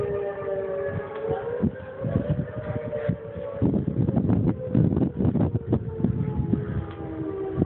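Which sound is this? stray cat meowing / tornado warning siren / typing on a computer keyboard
tornado warning siren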